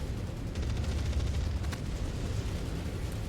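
Enemy mech gunfire in MechWarrior 5, a dense continuous barrage of booming shots and rumbling impacts that stays loud throughout, with a sharper crack near the middle.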